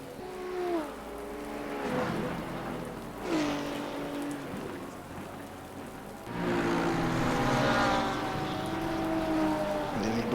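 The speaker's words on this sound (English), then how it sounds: "The rain should be dying off in about 10 minutes." Steady rain hisses throughout a wet race at Monza in a racing game, filling the whole clip at a constant moderate level under tonal engine whines that rise and fall as cars pass.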